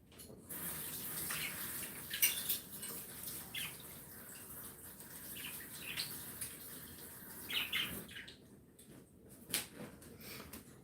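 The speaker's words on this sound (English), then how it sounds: "let me rinse my teaspoons off real quick" Teaspoons rinsed under a running kitchen tap give a faint, steady hiss of flowing water with small clinks and splashes.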